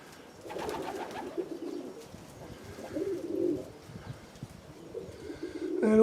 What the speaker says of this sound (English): Yes, hello fat pigeons.